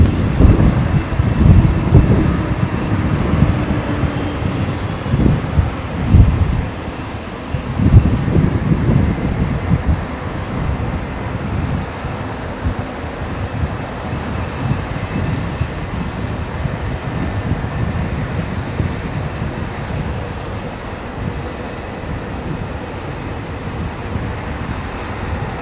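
GE diesel locomotives passing close by, a loud continuous rumble and roar of engines and rolling rail cars with heavy low-end surges early on, then steadying into a sustained wash with wind buffeting the microphone.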